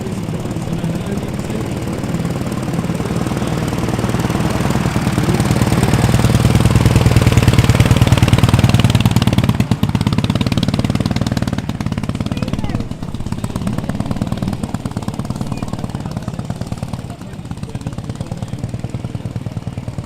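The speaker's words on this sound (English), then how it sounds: "I hope your ears enjoyed those lovely engine notes" A car engine rumbles and revs with a deep, throaty note, rising and falling in intensity, with people talking over it.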